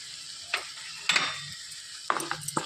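Spoon stirring tomato and bachali leaf curry in a pan, with salt just added: a few separate scraping strokes against the pan over a soft background sizzle, close and fairly quiet, with no talk.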